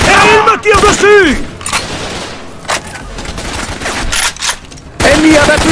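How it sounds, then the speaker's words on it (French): Enemy gunfire in the jungle shooter Raven Squad: Operation Hidden Dagger: loud bursts of rapid shots and crackling fusillades close by, with voices and game tones mixed in between volleys. "Et il me tire dessus!"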